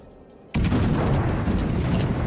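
Warspite battleship main guns firing in World of Warships, a sudden loud boom that hits after a quiet half second and rolls on as a thick rumbling blast to the end.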